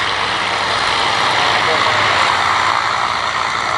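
A Cosmic Wind racing aircraft at an air show sends a steady, loud, unbroken engine drone across the full clip, heard from nearby with no change in pitch or level.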